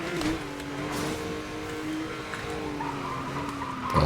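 Tires squeal and skid as a car spins its wheels in Need for Speed Most Wanted (2012), a sustained screech over engine drone lasting several seconds, with someone talking faintly over it.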